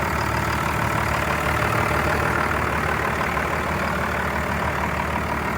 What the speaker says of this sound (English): The engine still sounds pretty good.